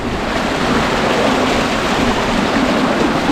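River Trent water forcing its way under high pressure through the lower gate of Beeston Lock, a loud, steady broadband rush and roar that fills the whole stretch without pause or voices.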